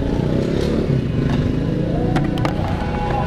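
A Vespa scooter engine drones loudly and close by with a rough, steady tone and a few clattery knocks toward the end, without clear revving peaks.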